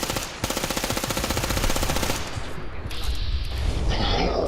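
Rapid automatic gunfire bursts loudly in Fallout 4, a fast rhythmic stream of shots for about two seconds followed by further firing and clattering game effects.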